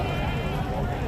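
A goat bleats among the crowd at a livestock market, a short wavering cry heard close over a busy background of people talking.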